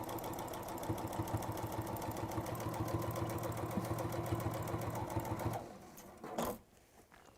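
A sewing machine tacking fabric pieces in place runs in a steady, fast mechanical chatter for about five seconds, close and even, then stops, leaving a few small handling noises.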